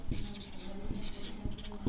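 Pen or pencil writing out a maths solution on paper, a close scratchy scribbling with several short strokes, faint and steady, with no talk over it.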